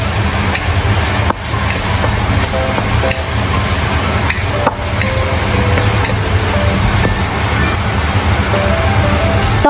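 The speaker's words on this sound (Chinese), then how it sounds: "炒香午餐肉， 一茶匙蒜末一起炒香" Luncheon meat stir-frying with a teaspoon of minced garlic for a Japanese-style curry macaroni: a steady, loud sizzle runs throughout, with a few light clicks of the spatula against the pan.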